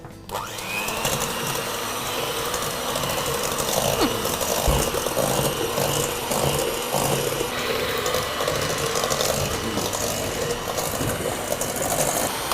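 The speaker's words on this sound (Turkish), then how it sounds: "Şimdi mikserimizle güzelce çırpalım." An electric mixer beats three eggs with a cup of sugar for a classic cake batter, whirring in a continuous, close, mechanical drone throughout.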